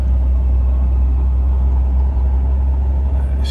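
Sebring SX Healey sports car engine idling while still warming up, a steady, loud, close low rumble that holds even throughout with no one speaking.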